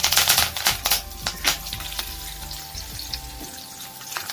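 Dried red chillies, garlic cloves and curry leaves frying in hot oil for a Tamil vatha kulambu, with loud crackling spatters at first settling into a steady, quieter sizzle.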